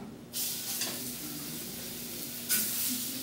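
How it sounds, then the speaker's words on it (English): Coriander-crusted ahi tuna hitting a hot pan to sear, a sudden loud hiss that settles into a steady sizzle, then a second burst as more fish goes in. "I'm going to turn it down a little and I'm going to sear the one side."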